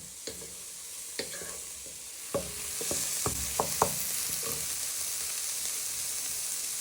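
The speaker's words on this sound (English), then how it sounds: "So you're going to add in your tomatoes. And then you give that a good stir for a minute or two." Fresh chopped tomatoes are stirred into onions and garlic in a frying pan for a prawn and tomato spaghetti, with a steady sizzle under scattered scrapes and clicks of the spoon that grow busier toward the end.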